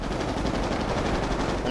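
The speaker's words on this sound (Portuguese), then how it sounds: "Foi um tiro." Gunfire in GTA 5 roleplay, a dense burst of rapid shots rattling continuously at close range, loud and harsh for under two seconds.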